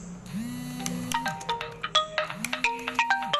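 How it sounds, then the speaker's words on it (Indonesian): A phone ringtone for an incoming call plays alone: a looping electronic melody of bright short tones over a sliding low tone that repeats twice, fairly quiet and clear. "sudah ada telepon masuk dari Semarang"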